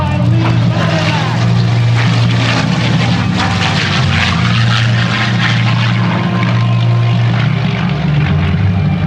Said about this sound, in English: And the mighty P-51 Mustang, flown by Lee Lauderback.